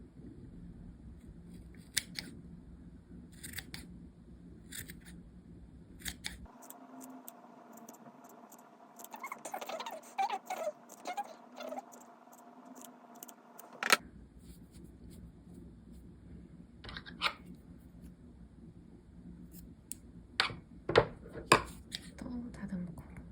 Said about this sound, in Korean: 이런 거를 이렇게 가위로 잘라주는 거예요